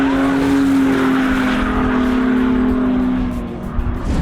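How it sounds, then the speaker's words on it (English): A car fitted with a Walmart angle kit drifts, its engine droning steadily while tires hiss and squeal in a long skid that fades near the end. "I'm not spinning out, I'm getting good drifts, linking some turns."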